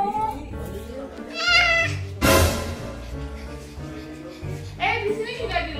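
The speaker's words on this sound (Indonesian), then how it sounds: "Ada kucing sayang." A cat meows outdoors by a house, giving several distinct, fairly close calls with gaps between them, while people talk nearby.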